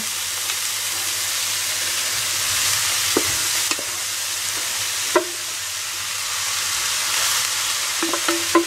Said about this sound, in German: Jetzt gebe ich das Tiefkühlgemüse dazu.